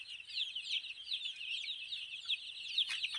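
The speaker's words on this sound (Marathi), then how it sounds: "बघा ही बारकी पिल्ल आहे लॉट आता मोठे करतले एकदम लहान लहान आहे" High, dense cheeping of many very small chicks being reared together in a poultry shed, a steady continuous chorus with a few brief sharper calls near the end.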